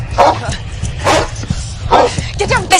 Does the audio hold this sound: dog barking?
yes